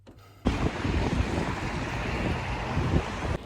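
Strong wind buffets the microphone outdoors, a loud steady rumbling roar that starts abruptly and holds without a break, with no talking.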